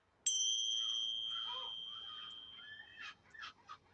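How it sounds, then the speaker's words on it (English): A single bell is struck to open a yoga session, ringing out with a clear sustained tone that slowly decays, followed by a few soft rustling sounds. "and we'll begin with the bell"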